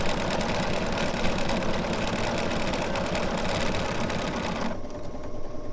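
A sewing machine runs steadily along a quarter-inch seam in Celtic quilt pieces, a close, continuous whirring hum that eases off near the end.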